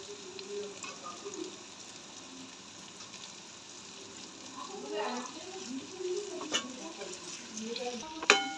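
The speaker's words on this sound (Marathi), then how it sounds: "हे सर्व मिश्रण तेल सुटेपर्यंत भाजून घ्या।" Onion and coconut paste frying in oil for an egg curry, a soft steady sizzle with occasional scraping stirs and a sharper clatter near the end, with faint talk in the background.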